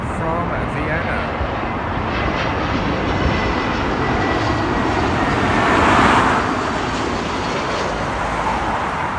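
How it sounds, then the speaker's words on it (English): Austrian Airlines Airbus A320neo jet arriving at London Heathrow from Vienna, a steady, full engine rumble that builds to a brief peak as it passes near, then eases off. "Austrian Airlines A320neo coming in from Vienna."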